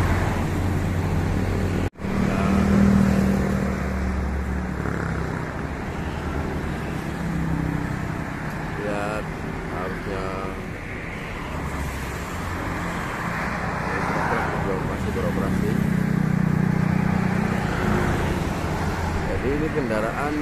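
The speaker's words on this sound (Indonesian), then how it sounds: "Ini kendaraan di dalam tol didominasi roda 4 pribadi sama travel sepertinya. Lihat kepadatan arus." Heavy holiday-exodus traffic on the Palimanan-Kanci toll road, mostly private cars and travel vans, forms a steady close roadway rumble with engines droning throughout, while someone talks over it.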